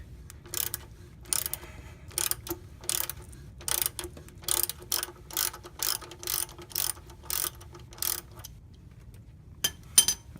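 A hand ratchet works a snug 15 millimeter bolt loose on a truck, giving repeated short clicking bursts in an uneven rhythm, close and clear against a quiet background.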